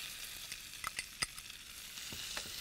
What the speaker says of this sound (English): So I'm going to add the onions.